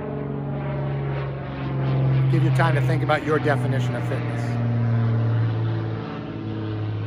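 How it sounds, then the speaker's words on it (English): A propeller airplane passes overhead with a loud, steady droning hum that swells and then eases, while a person talks over it at a table. "Hold on, there's an airplane passing."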